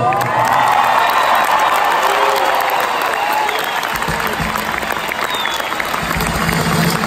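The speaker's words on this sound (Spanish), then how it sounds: "Es un privilegio trabajar con todo nuestro staff para quienes les pido un aplauso bien chingón" A big concert crowd in Bogotá claps and cheers continuously for the band, loud and sustained, with whoops and shouts rising over the roar of applause.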